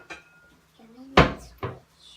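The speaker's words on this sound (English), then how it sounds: "let me grab another skillet." A cupboard bangs open and a skillet clanks out of it, two sharp close knocks in quick succession, with brief talk before them.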